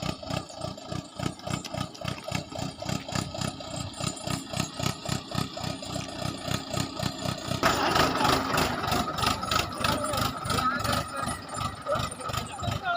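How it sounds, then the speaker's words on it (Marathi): A tractor engine idles steadily with a regular low chugging pulse throughout, getting a bit louder partway through as people talk nearby. "राधा सरक साईडला ट्रॅक्टर आलाय"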